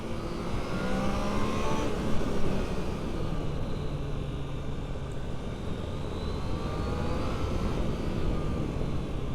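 A motorcycle engine rumbles steadily and loudly throughout, with a continuous throaty roar and slight swells in pitch, no voices present.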